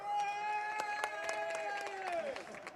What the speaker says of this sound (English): Big cheer from the Manthey team there